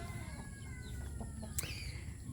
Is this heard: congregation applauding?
no